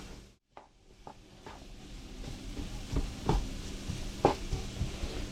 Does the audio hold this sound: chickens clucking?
no